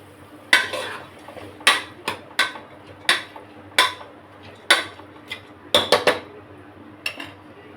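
Peeled lentils dry-roasting in a pan, a spoon stirring and scraping so that about a dozen sharp metallic clinks and knocks land at irregular intervals over a low steady background.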